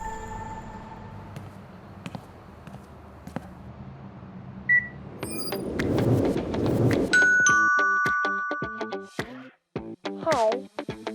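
An Aqara Doorbell Camera Hub G410 chimes with bright electronic tones, a short sequence of melodic beeps over a soft background, fairly close and clear.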